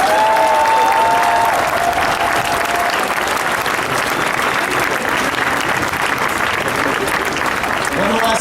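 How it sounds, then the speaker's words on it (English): A large crowd applauds legislators at a bill signing for marriage equality, with loud, sustained, dense clapping throughout and a few faint cheers mixed in. "Let's give them one more round of applause"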